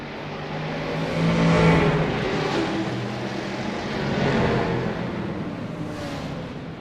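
A pack of 1960s GT race cars in a racing video game accelerates off the starting line, with layered engine roars rising and falling in loud, overlapping waves.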